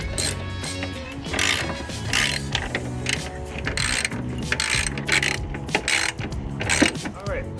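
Ratchet tightening a 17mm bolt on a Mazdaspeed 3 coilover during a Bilstein suspension install, with steady repeated clicking and mechanical rattling up close across the whole stretch.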